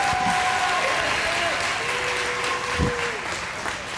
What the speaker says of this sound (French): On peut-tu donner une main d'applaudissement au Seigneur?